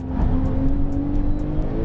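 A Porsche 911 Turbo S engine pulls hard on a race track, a loud steady drone from inside the car with a rising tone and rhythmic pulses as it gathers speed.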